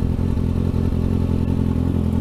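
A Kawasaki Z125 motorcycle ridden through a downtown bike lane on its first ride, with a tunnel exhaust. The engine drones steadily and close, a low throbbing note with light mechanical clatter, and no voices.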